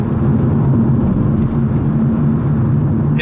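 A new car's engine hums steadily from inside the cabin, a loud, even low rumble with no change in pitch and no talking over it.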